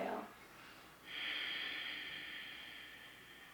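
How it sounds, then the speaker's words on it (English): A long breathy exhale during a tantric breathing practice, heard close and steady for several seconds after a brief sharper intake at the start. "and exhale"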